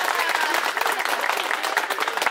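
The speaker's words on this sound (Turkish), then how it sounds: "Alkış." Guests at a Turkish engagement ceremony in Velbert clap together in a dense burst of applause, with some crowd voices mixed in.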